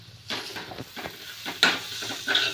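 Tomato masala with turmeric and chilli powder sautés in a home kitchen pan, giving a soft steady sizzle broken by several scraping stirs of a spatula, close and moderate in level with no talking.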